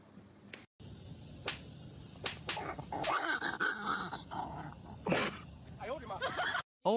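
A husky makes a series of howling, yodeling vocalizations with growly and whining tones, fairly close, mixed with short noisy bursts over a continuous background hum.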